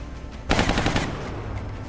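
A single sharp burst of rapid gunfire rings out in the XCOM video game, loud and close for about half a second, then fades into quiet ambience.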